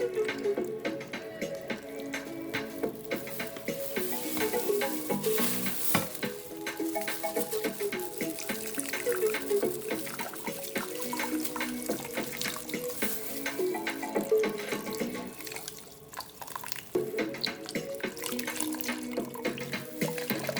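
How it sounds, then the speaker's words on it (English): Water pours and splashes continuously over a coconut grater to rinse off grated coconut while cooking Jamaican rice and peas, a steady close running stream with clattering kitchen noise and no talking. "I'm going to pour the water to wash the coconut off the grater."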